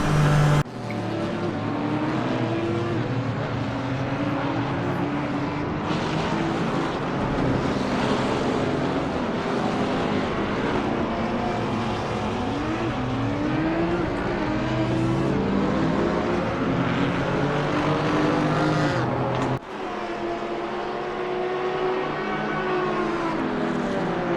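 GT4 race car in Assetto Corsa Competizione at Monza, a steady loud engine drone with gear-shift pitch sweeps running continuously, a brief dip near the end, and no talk over it.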